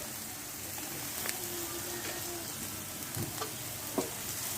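Silkworm pupae stir-fried with lemongrass, kaffir lime and pandan leaves give a steady, even sizzle throughout, with a few soft scraping knocks from stirring and no talking.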